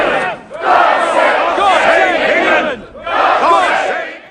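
A large crowd roars and shouts in welcome for King Egbert, two long, loud bursts of massed voices separated by a brief lull, close and full, with no single voice standing out.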